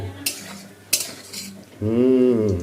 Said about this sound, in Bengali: দেখুন, দেখতে পাচ্ছেন বন্ধুরা, এই দেখুন হচ্ছে ফ্রাই।